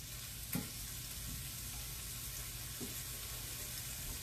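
Potatoes crisping in a skillet near ham, onions and green peppers give a quiet, steady fry with a couple of soft clinks of a utensil against the pan.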